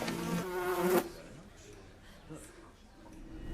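Loud, droning buzz of a swarm of flies in a zombie period film scene, a steady insect hum that persists after a voice cuts off and continues low underneath, rising again toward the end.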